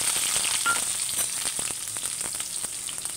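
Coriander seeds, cumin and finely chopped onions fry in about three spoons of hot oil, giving a close, even sizzle with dense crackles and small pops throughout.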